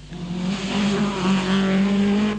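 Rally car from the 1983 Circuit of Ireland, round two of the British Rally Championship, races along a stage road, its engine droning loud and close with a steady rising pitch and a faint tire squeal, no voices.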